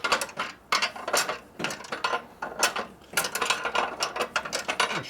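A wrench ratchets a bolt on a 1941 74ci Knucklehead bobber motorcycle, with repeated close metallic clicking bursts in an uneven rhythm and no talk.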